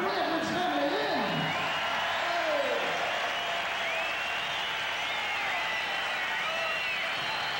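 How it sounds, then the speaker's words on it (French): A large 1970s live concert audience applauds and cheers, a dense continuous roar of clapping with scattered whoops and whistles, steady and fairly loud throughout. "Un premier applaudissement de la Lune."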